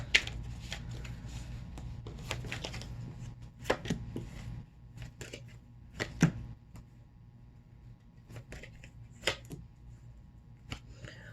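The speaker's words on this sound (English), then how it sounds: "Let me pull a few cards just to clarify that." Tarot cards are riffled and slid off the deck in short flurries of papery flicks and taps, fairly close and quiet, separated by pauses.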